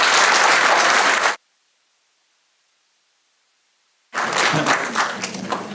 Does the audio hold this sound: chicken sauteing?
no